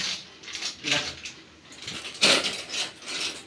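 A spoon clinks and scrapes against metal cooking pots in a home kitchen, giving close, irregular bursts of metallic knocks with brief quiet gaps in between.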